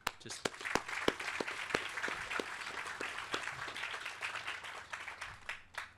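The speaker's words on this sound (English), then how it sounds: "So huge round of applause" Audience applause at an unveiling event for a carbon capture company's Leo Series, a broad crowd clapping steadily with sharp individual claps standing out, moderately distant and fairly faint.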